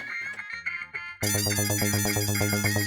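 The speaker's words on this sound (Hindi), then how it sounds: "फोन बज रहा है।" A mobile phone ringtone plays in a lively family comedy scene: a sparse melodic tone pattern first, then a loud, dense, repeating electronic ring that fills the rest, with no talk over it.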